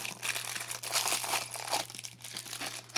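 Plastic bag and foam packing crinkling and rustling close up as a vape mod is unpacked by hand, in irregular soft crackles under a steady low hum.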